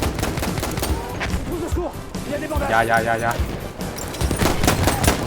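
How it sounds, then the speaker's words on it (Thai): Rapid bursts of Battlefield 1 pistol gunfire crackle under excited, overlapping talk, the shots coming in clusters through most of the clip. "ผมได้ยินปืนไฟ นั่นมันอยู่ตรงโน้นมันมาแล้ว"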